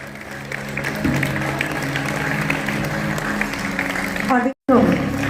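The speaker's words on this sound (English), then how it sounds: "Please give thunder of applause." An audience at a youth parliament session applauds in a steady, dense wash of clapping, with voices mixed in, before an abrupt cut and a brief resumption.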